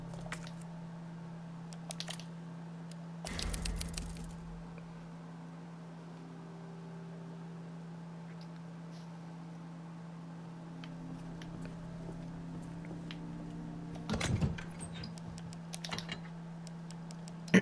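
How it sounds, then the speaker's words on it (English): A typewriter in the video game Resident Evil 2 clatters in two short bursts of rapid key strikes, separated by a long stretch of quiet electrical hum. "There's the typewriter."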